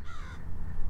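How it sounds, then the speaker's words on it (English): Crows cawing outdoors, a single short harsh caw close by over a low rumbling background, with no talk. "There's a crow, a couple crows."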